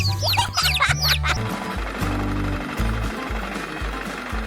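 Cartoon ducklings quack in quick, high, chirpy calls at the start, followed by a steady low engine-like drone with repeated pulses.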